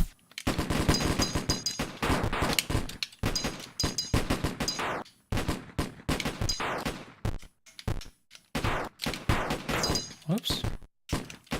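Rapid bursts of gunfire sound effects come from the video game Alphaman, sharp repeated shots in clusters with short gaps between them, while a player talks intermittently.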